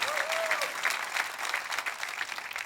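A church congregation claps during a sermon: steady, dense applause from a crowd fills the whole stretch at moderate loudness, with a brief voice rising over it near the start.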